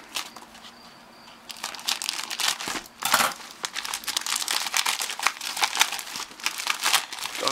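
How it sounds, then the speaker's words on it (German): A well-packaged parcel is cut open, its wrapping crinkling and tearing in a dense, loud, continuous rustle after a quieter start, close by with no speech. "Schneiden wir auch mal auf."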